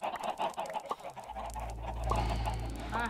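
Blocky chickens cluck in a Minecraft survival world, several brief clucks and squawks scattered over a low continuous hum, moderately loud and close.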